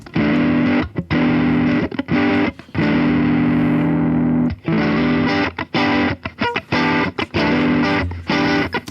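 Heavily distorted electric guitar recorded through a 421 dynamic microphone alone plays chugging chords and short choppy stabs, loud and close, with abrupt stops between phrases.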